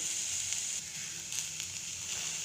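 Thinly cut ridge gourd peel sizzles in an oil-filled pan, a steady bright hiss with small crackles, close and continuous with no talking.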